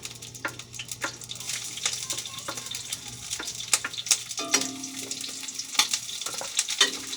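Garlic frying in hot oil for a simple sweet potato tops dish: continuous crackling and spitting with scattered sharp pops and occasional utensil clatter, close and busy.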